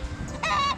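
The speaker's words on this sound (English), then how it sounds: "Yeah, those geese are quite chatty." Geese on a farm in Ecuador give a short, loud honking call, a brief raspy burst standing out close by over faint outdoor background.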